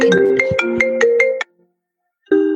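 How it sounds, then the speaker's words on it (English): A phone ringtone rings through a connected laptop in an indoor interview setting, a loud repeating melodic pattern of about eight pulses, then a pause and one more burst starting. "it's on silent, and then my laptop's connected to it, so it rings on the laptop"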